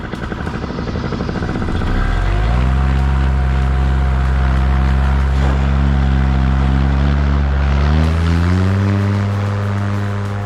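A paramotor engine and propeller spool up loudly during a takeoff run in cold Montana air, the buzzing drone climbing in pitch around two seconds in and rising again near eight seconds, close and continuous.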